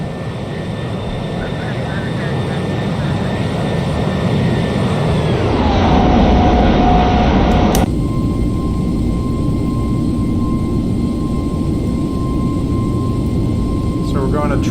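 Airbus A321neo jet engines in a flight simulator flyby, a loud steady roar with a whine that drops in pitch as the aircraft passes, then a sustained engine hum, with talk present.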